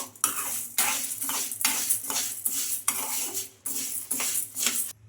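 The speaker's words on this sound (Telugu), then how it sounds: "ఈ పల్లీలను కూడా ఫ్రై చేసుకోవాలి" Green gram and peanuts dry-roasting in a pan, stirred with a utensil in repeated scraping bursts with short pauses between, a close, steady rattling of seeds against metal with no talking.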